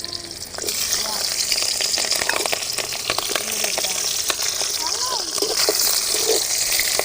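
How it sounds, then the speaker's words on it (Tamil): Chopped onion and green chilli frying in ghee in a pan, a continuous bright sizzle with occasional crackles and stirring clinks, steady and close, while someone talks over it. "அதே நெய்யில் அரிஞ்சு வச்ச வெங்காயம் 1/2 கப்பு, அரிஞ்சு வச்ச பச்சை மிளகாய் 3,"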